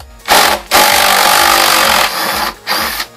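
A socket wrench works on 8mm bolts on the intake cover of a Ford Escape 3.0 V6, giving loud close ratcheting rasps in three long bursts separated by short pauses.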